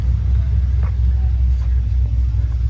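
An old flathead engine, apparently in a 1929 car at a July 4th car show, idles with a steady, deep low rumble that runs unbroken throughout, fairly loud and close, with faint crowd noise in the background.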